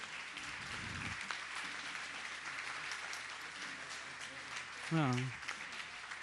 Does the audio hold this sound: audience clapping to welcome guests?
yes